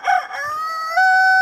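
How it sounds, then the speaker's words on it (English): A Whiting True Blue rooster crows once, loud and close, its call rising and then holding a long, steady strained note to the end. "The one up there crowing his lungs out, or trying to"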